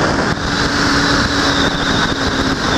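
A black Honda Hornet motorcycle engine drones steadily while riding through Ribeirão Preto streets, mixed with heavy wind rush over the microphone throughout, loud and continuous with no talking.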